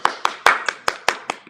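Sharp, separate hand claps in an even rhythm, about eight over a short span, loud and close with no talk. They come from a small audience being urged to applaud for a performer's introduction.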